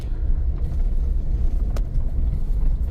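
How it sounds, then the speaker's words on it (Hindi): Gurkha off-road vehicle engine, said to sound like a JCB, rumbling low and loud in a continuous heavy drone heard close by on a forest road at night, with a brief higher rattle partway through and no talk. "बाहर से इसकी आवाज जेसीबी की तरह से आती है, गुरखा की"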